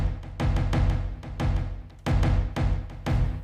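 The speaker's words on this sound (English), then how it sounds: "I can adjust the rate here. So I can say I want it to be triplet note, so it sounds like this." Percussion rhythm from the Zero G Kepler plugin set to a triplet rate, with loud, punchy hits falling in uneven swung groups, up close and with no voices.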